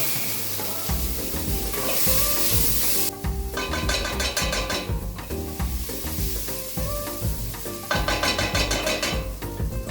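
A ragu for lasagne sizzles in a pan while a utensil stirs and scrapes across the bottom, with continuous frying hiss and bursts of scraping strokes.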